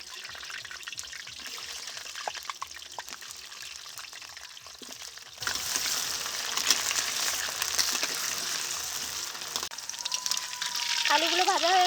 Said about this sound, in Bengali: তেলে আলুগুলো ভেজে তুলে নেব